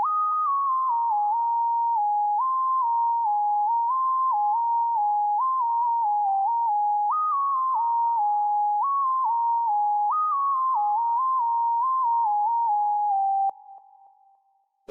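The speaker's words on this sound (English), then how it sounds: "This lead is called the Simple Sign from Purity." Simple Sign synth lead from Purity, mixed with reverb and EQ, plays a clean, sine-like melody in a Pluggnb beat context, stepping between notes steadily for about thirteen seconds before fading out.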